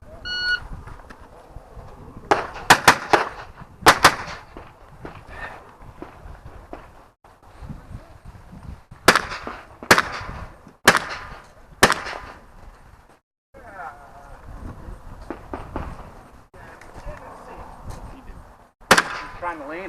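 Gunshots at a holiday shooting match, several sharp cracks in small bursts and singles spread across the stretch, with a voice talking between them and footsteps in the background.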